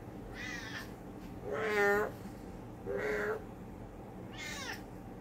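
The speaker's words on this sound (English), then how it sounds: "The meow is so different from before." A cat meows indoors four times at uneven intervals, the second and third calls louder and more drawn out, the last one higher and thinner, against a quiet room background.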